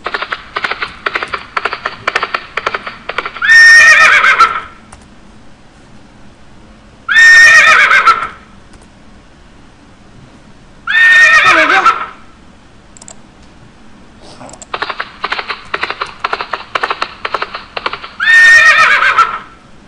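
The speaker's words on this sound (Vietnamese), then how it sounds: "đây phải là ngựa hí." A horse neighs four times as a sound effect in a programming game project, loud drawn-out whinnies separated by pauses, with bursts of clip-clop hooves before two of them.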